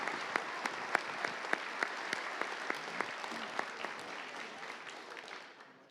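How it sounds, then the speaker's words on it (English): An awards ceremony audience at a miniature-painting convention bursts into dense, sustained applause, individual claps standing out sharply over the wash before it tapers away at the end. "Round of applause."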